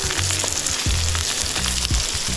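Sea bass sizzling and frying steadily in a pan on an outdoor cook-up, with low thuds and occasional scrapes over the constant crackle, close and alone without talk.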